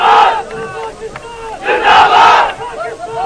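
A large crowd at an academy's opening ceremony in Pakistan shouts and chants slogans in loud, swelling bursts, with two strong surges of massed voices in a few seconds.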